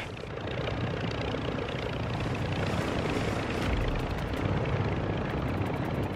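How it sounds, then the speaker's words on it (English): A helicopter in Call of Duty Modern Warfare II thrums as a continuous engine drone with rotor chop, moderately loud and steady throughout, with no voices. "Worry about that chopper."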